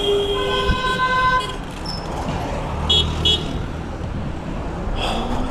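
A vehicle rushes past on a road close behind a delivery rider, a broad roaring swell that rises and fades amid steady traffic noise, with a few horn toots early on.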